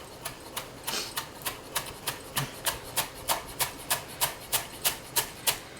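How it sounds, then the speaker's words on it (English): Fresh dill, stems included, chopped with a knife on a cutting board in a steady run of about eighteen sharp, evenly spaced taps, close and clear with no talk. "It's okay to chop the stems in here."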